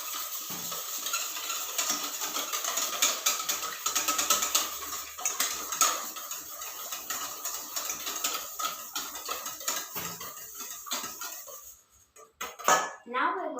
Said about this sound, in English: First we're going to add the eggs into a bowl. And I'm going to whisk them nicely.